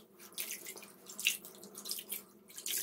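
Water splashes and trickles as legs are rinsed during an at-home pedicure, making soft, irregular faucet-like pours and drips at close range, fairly quiet, with no talking.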